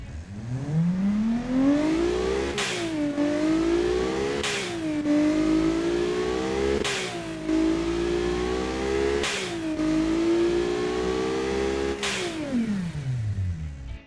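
A turbocharged Honda K20A2 engine fitted in a van revs repeatedly, climbing and falling in pitch in a loud, close series of rises broken by sharp blow-off bursts, with no talk over it.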